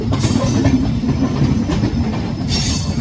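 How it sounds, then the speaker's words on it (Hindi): A Delhi Pathankot SF Express passenger train rolls over track points while switching lines, giving a loud, steady rumbling clatter of wheels with light screeching and no talk. "कैसे ट्रेन जो है अपनी पटरियां चेंज कर रही है।"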